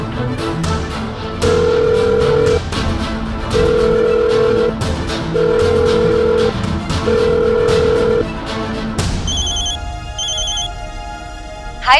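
Phone ringback tone on an outgoing call, a loud steady beeping repeated four times in even pulses, followed by a higher tone pattern as the call connects.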